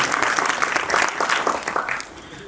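Audience at a school spelling bee applauding a contestant, a burst of steady group clapping that fades out after about two seconds, fairly close and loud, with faint voices underneath.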